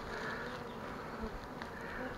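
A steady, dense buzz of a honeybee swarm near a hive, many bees humming together close by, continuous and fairly loud throughout.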